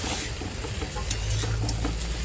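Fried shankar fish and potato pieces stirred into cooked masala in a pan, soft scraping and stirring over a continuous close sizzle, with no talk.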